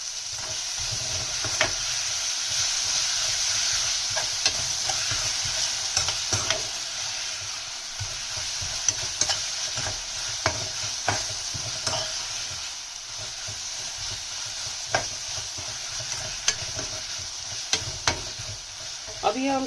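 Tomatoes and onions cook on a slow flame in a pan for a white bean curry, a continuous soft sizzle and hiss broken by frequent scrape-and-clink stirring strokes, close and alone without voices.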